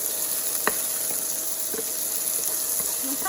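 Peppers frying in olive oil in a pan, a continuous soft sizzle with a few brief pops and stirring clinks, close and steady throughout.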